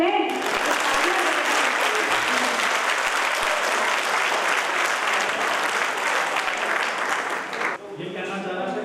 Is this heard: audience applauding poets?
yes